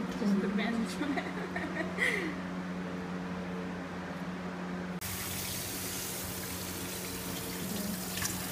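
Frozen tuna is rinsed under a running tap, a steady gushing flow of water that grows louder and brighter midway, with people talking over it.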